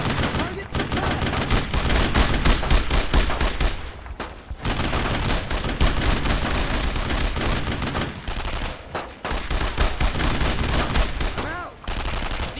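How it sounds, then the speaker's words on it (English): Gunfire in Brothers in Arms: Road to Hill 30, dense sustained rifle and machine-gun bursts roaring near and loud with only brief gaps, mixed with shouted battle callouts from soldiers. "Unload on him! Reloading! Suppressing fire! Suppressing fire!"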